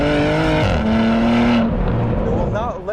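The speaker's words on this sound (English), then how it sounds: "Nice exhaust note in this car." Porsche Macan GTS exhaust note while driving, a loud sustained engine tone with a downshift-like pitch change midway, then settling into a lower rumble.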